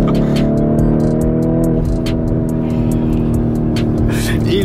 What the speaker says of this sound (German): wenn der Wagen so krass rumschreit